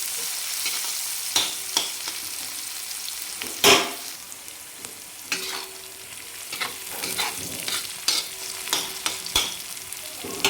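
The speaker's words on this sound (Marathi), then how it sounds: "आणि परत त्याला आपल्याला 2 मिनिट छान परतून घ्यायचं." An onion mixture with turmeric sautés in a pan for jhunka, a continuous sizzle broken by sharp scraping strokes of a spatula and a few louder clatters against the pan, close and clear with no talking.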